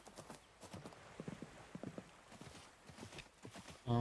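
Horse hooves clip-clop at a steady walking rhythm in the farming game Coral Island, soft and close, with a louder burst of a different sound at the very end.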